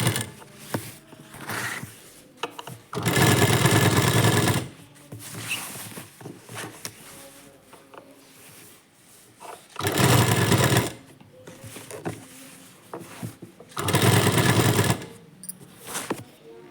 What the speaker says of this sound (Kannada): ಇವಾಗ ಎರಡು ಭುಜನೂ ಈ ರೀತಿ ಜಾಯಿಂಟ್ ಮಾಡಿಕೊಂಡು ಎರಡೆರಡು ಹೊಲ್ಗೆ ಹಾಕೊಳ್ಳಿ